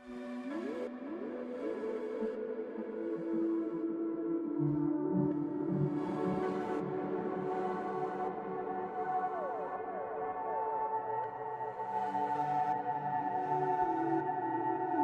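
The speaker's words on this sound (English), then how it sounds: "Now this is what it sounds like again with the effects chain and the ghost compression." An airy, pulsing synth part run through an effects chain with ghost compression, sustained breathy chords with gliding pitch movement and rhythmic swells, playing alone with no voices.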